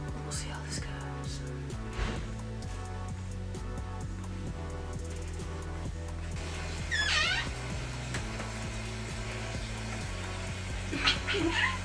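Cats meow a few times, short high calls breaking in near the middle and end over a steady droning musical backdrop during an album recording session, with soft voices speaking.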